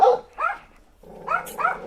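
Dogs barking near a rural garden, a few sharp close barks in two short bursts separated by a brief pause, with no speech.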